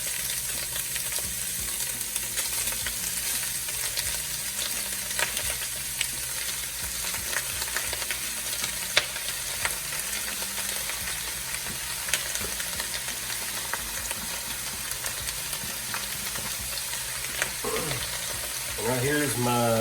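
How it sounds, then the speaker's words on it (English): Beef sizzles and fries steadily in a hot pan in its own fat, with a constant crackle and occasional louder spits, close and alone with no talk. "now we're going to take and add our beef to it."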